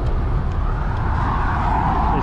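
Road traffic along a long stretch between Jay B Starkey and SR 50 Cortez Blvd in Brooksville, Florida, a steady broadband roar of passing cars and trucks with a swell near the end, continuous and fairly close, with no talk.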